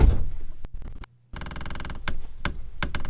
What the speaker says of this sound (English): here's the door opening